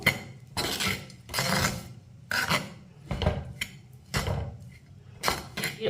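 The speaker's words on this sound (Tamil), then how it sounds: "எல்லாத்தையும் நல்லா மிக்ஸ் பண்ணிக்கிடுவோம்." Ragi puttu is mixed by hand with onion and green chilli in a bowl, heard as six rhythmic, close gritty rubbing strokes, each a short scrape of grainy flour against the bowl with faint clinks between.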